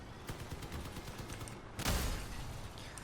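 Armed vehicles in the video game Crossout fire in rapid repeated bursts, then a single heavy blast lands near the end, loud and dense over a constant game background.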